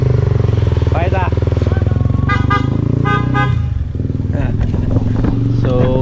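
A Honda CB150X motorcycle rumbles nearby as it rides off, its steady low engine pulse joined by short horn toots and passing traffic, with people talking over the noise.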